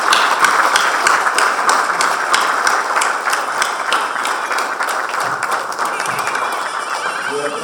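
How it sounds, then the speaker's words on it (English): An audience at a strategy conference's lamp-lighting ceremony applauds in a continuous spread of clapping that carries through to the end, with some voices mixed in. "please give a big round of applause for everyone"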